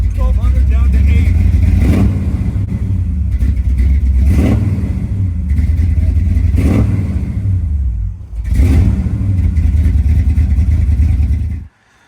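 A 1968 Camaro SS big-block engine idles loudly and close, its steady rumble swelling and dipping every couple of seconds in an uneven flutter before cutting off abruptly at the end.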